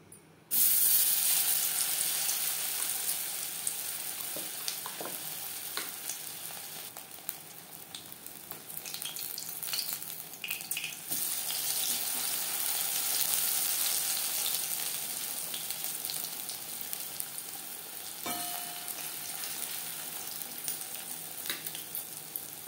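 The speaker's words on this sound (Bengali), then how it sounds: "পটল ভাজবো লো টু মিডিয়াম ফ্লেমে।" Stuffed pointed gourd frying in refined oil in a wok over low to medium flame, a steady bright sizzle running throughout with small crackles and occasional utensil clicks, no voices.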